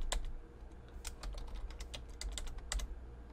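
Close, quiet typing on a computer keyboard that may be failing, with irregular clusters of sharp key clicks and brief pauses between bursts.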